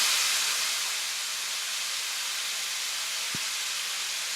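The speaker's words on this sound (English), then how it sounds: "So I got to talk loud over the sizzle." Loud, steady hissing sizzle of shrimp frying in a hot pan, continuous and close, with a single brief knock partway through.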